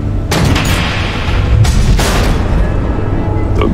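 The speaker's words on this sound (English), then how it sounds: "The missiles." Missiles exploding in Batman: The Enemy Within, a loud, dense rumble of blasts and booms with sharp bursts near the start and again around the two-second mark, filling the whole passage.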